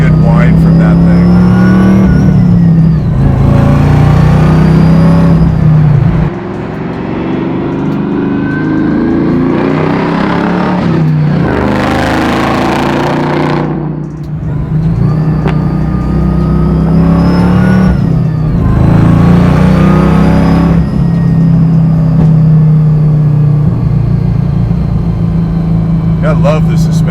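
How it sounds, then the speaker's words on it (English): A supercharged Chevrolet Camaro Z28 V8 revs and accelerates hard, the high supercharger whine rising over the roar, while voices talk over it throughout. "I like the way the Supercharger sounds real good. Yeah, you get a good whine from that thing"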